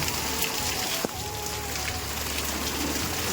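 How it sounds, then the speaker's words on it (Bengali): Rain falls outdoors onto a street where water is pooling, a soft steady patter at low volume with one brief sharp knock partway through. "বৃষ্টি পড়ছে"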